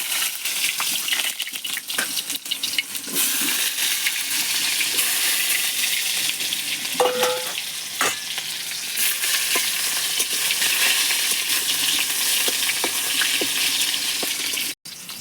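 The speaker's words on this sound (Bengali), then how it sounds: "প্রথমে আমি আমগুলোকে গরম তেলের কড়াই দিয়ে দেব" Mango pieces frying in hot oil in a wok, a steady loud sizzle running throughout with faint stirring clinks and scrapes, no voices.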